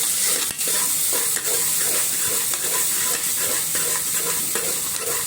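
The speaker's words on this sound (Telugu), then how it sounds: "తర్వాత అల్లం వెల్లుల్లి పేస్ట్ అండి, ఇది 2 కలిసి ఒక 2 మినిట్స్ అట్లా ఫ్రై చేసుకోవాలండి" Ginger garlic paste frying in a pan for cabbage pappu, a loud, steady sizzle with a rhythmic scrape of stirring throughout, close up and with no voices.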